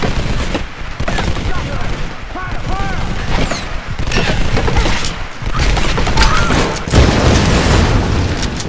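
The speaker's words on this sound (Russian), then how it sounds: "Я знаю, что выстрелить из подствольника" In Tomb Raider, an underbarrel grenade launcher fires amid heavy gunfire, with loud booming blasts and rattling bursts packed densely together, close and intense, with a few brief gaps.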